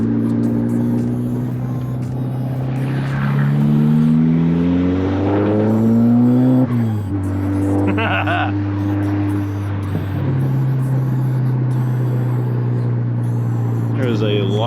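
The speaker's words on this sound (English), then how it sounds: "the car definitely sounds way nicer when it's basically the rainforest out" A car engine revs and idles on a humid, muggy day, its tone climbing and falling through several pulls over about fifteen seconds, while a person talks over it.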